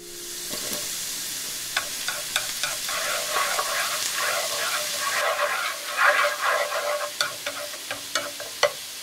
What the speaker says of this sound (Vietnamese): Cho hành tỏi băm vào phi lên